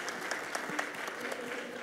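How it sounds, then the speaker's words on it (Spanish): Students at a SENA session during Campus Party give applause for Leo, a busy, steady patter of many hands with a few sharper claps, heard at a modest distance. "entonces vamos por los aplausos de Leo."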